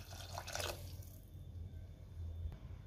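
Water poured from a glass into a pressure cooker holding masoor dal with salt and asafoetida, a short splashing burst in the first second, then faint trickling over a low background hum.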